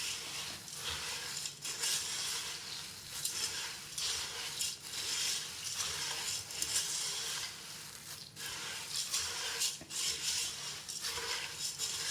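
Puffed rice pori snack is tossed and stirred in a pan, giving a continuous dry rustling, scraping hiss with soft irregular swells throughout.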